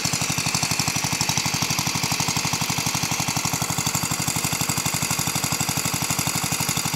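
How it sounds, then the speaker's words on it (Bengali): An electric motor water pump runs with a rapid, even mechanical pulsing and a steady hum, close and constant throughout. "এই মোটর পাম্পে তেমন বেশি আওয়াজ বা শব্দ নেই।"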